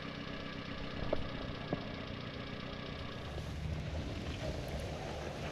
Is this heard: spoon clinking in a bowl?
no